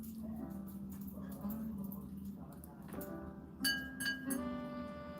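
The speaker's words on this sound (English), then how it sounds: "I hear the tinkling of dog collars" Small metal dog collar tags tinkle and clink in a few bright bursts near the end, over a low steady hum, in a home setting during a Christmas livestream.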